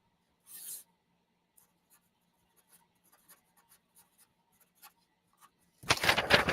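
Pencil or pen drawing on a piece of paper, with faint scattered scratches and taps at an irregular pace, a brief rustle near the start and a louder rubbing burst at the end, no talk.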